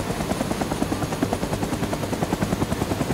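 Huey helicopter in the Vietnam War video game Rising Storm 2: Vietnam, a steady rhythmic rotor thump with engine whine filling the whole stretch, close and loud, with no speech over it.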